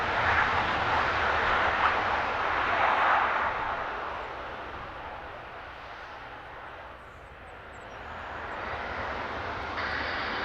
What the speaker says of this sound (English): this is about as much noise as this airplane is ever going to make